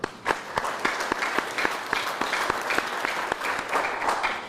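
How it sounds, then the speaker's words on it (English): An audience at a university athletic director introduction claps in steady applause, with several sharp individual claps standing out from the continuous patter. "I'm going to be glad to give you a round of applause."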